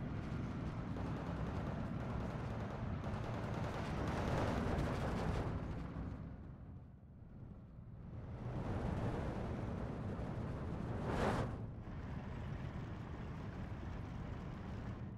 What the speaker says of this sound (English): M43 is firing nice, clean shots